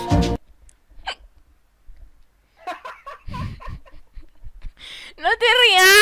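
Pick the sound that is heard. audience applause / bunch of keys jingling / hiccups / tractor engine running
hiccups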